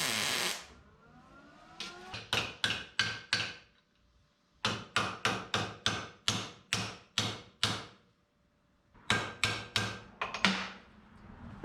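A hammer taps on the metal body of a 1977 Datsun 620 during tail-light frenching bodywork. The sharp, close metallic strikes come in three quick bursts of roughly five to nine hits each, separated by brief pauses.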